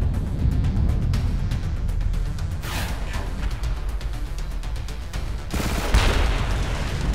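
Spaceship weapons firing in the 4X strategy game Stars in Shadow, a loud, continuous rattle of rapid shots and booms with two heavier bursts partway through, with no voices.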